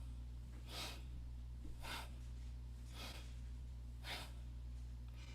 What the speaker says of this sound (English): make sound through your throat, when you breathe in and breathe out, make that sound